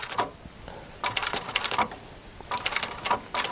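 A sewing machine stitching piping around a bolster cushion runs in three short, rapid bursts of close, clattering needle strokes separated by brief pauses.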